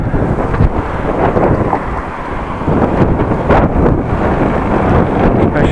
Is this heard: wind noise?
yes